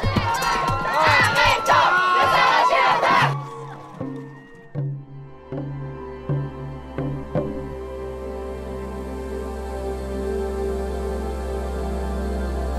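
A protest march crowd shouts and cheers loudly for about three seconds, then falls away into scattered voices and near silence over a low hum.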